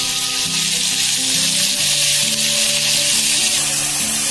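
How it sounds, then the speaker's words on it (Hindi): Mustard seeds, curry leaves and onions fry in hot oil with a loud, steady, close sizzle that holds for the whole stretch, over faint background music and with no talk. "ये तेल गर्म हो चुका है, इसमें हल्की सी राई डालते हैं थोड़ी सी। फिर 2-4 ये कड़ी पत्ता डाल देते हैं और ये प्याज डालते हैं।"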